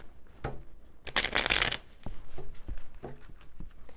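A tarot deck is shuffled close by, with several quick riffling bursts and a longer rustling flurry of cards in between, and no talk.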